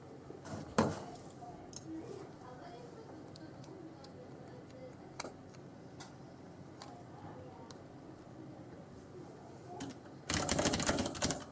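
Fingers clack on a Dali Epicon keyboard in a string of quick, light ticks, fairly close and steady, with a sudden louder burst of rapid typing near the end.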